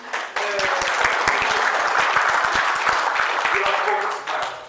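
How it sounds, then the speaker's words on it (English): A warm round of applause from a live audience, many hands clapping briskly and fairly close, steady throughout with a faint voice or two underneath before it fades at the end. "Just give him a round of applause."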